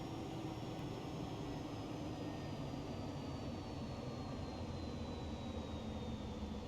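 Steady whine and roar of a Cirrus Vision Jet engine throttled back in the X-Plane 11 flight simulator, a constant cabin drone with a slowly falling tone, uninterrupted and without voices.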